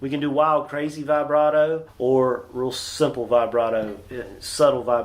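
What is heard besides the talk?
No distinct noise like a dog, phone or traffic.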